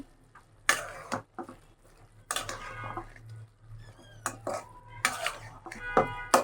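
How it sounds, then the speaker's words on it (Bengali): Metal pot lid lifted and a spoon stirring beef curry cooked with chopped spices, sharp clanks and scrapes in separate bursts over a low bubbling simmer, close by with no talk. "ঢাকনা খুলে দেখি এখন মাংসটা কেমন হয়েছে একটু লাড়া দিয়ে দিব"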